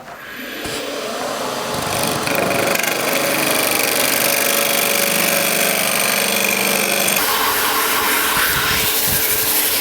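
A tungsten carbide tipped tool shapes spinning timber and resin on a lathe, producing a loud, continuous scraping roar with steady grinding texture throughout, close up and without pause.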